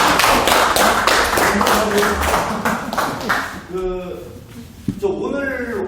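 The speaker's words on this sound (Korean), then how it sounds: "격려의 박수" Audience applause at a symposium panel discussion, a burst of rhythmic group clapping for about three and a half seconds, loud and close, followed by a voice speaking as the clapping dies away.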